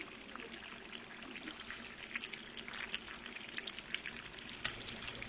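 Tilapia fillets and pasta cooking together in a pan give a faint, steady sizzle with soft crackles and bubbling, quiet and continuous with no voices.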